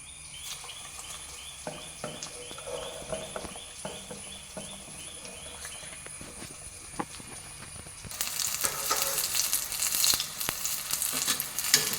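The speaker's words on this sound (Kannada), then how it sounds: "ಈ ಒಂದೊಂದನ್ನೇ ಹಿಟ್ಟಲ್ಲಿ ಮುಳುಗಿಸಿ ಎಣ್ಣೆಗೆ ಹಾಕೋಬೇಕೀಗ" Batter-dipped breadfruit pieces fry in hot oil, with quiet crackles and a few taps at first, then a loud, dense sizzle that takes over once the pieces go in.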